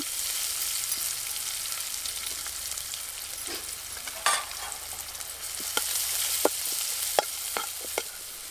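Steady crackling sizzle of crushed garlic and cumin frying in hot oil, with a few sharper pops and spatters rising out of the hiss near the end.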